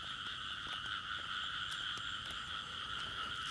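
Frogs call at night in a wet field where frogs are being hunted, a dense steady chorus of croaking and trilling that carries faintly from nearby without pause or voices.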